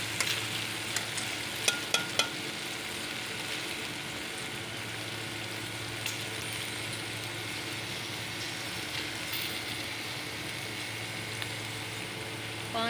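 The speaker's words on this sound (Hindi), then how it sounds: "इसको फ्राई कर रही हूँ" About a kilo of washed, cut okra frying in oil, giving a continuous soft sizzle with a few sharp utensil clicks early on, heard close and without talk.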